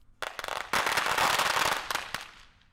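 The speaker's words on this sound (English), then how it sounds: "we lit some firecrackers inside a chicken" Firecrackers set off inside a chicken during a fire rescue safety demonstration, a loud, rapid string of close sharp cracks and pops merging into a dense crackling burst that fades out after about two seconds, with no talk.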